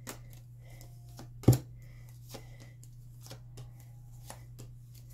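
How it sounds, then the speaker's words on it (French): Tarot cards are pulled out and shuffled, with a sharp riffle near the start followed by soft, sparse card flicks and taps over a low steady hum, close and quiet. "on va sortir toutes les cartes ici"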